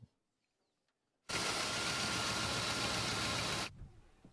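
A Dodge Ramcharger engine, just coaxed back to life after a roadside breakdown, runs with a loud, steady broadband roar for about two and a half seconds, then cuts off abruptly to quiet.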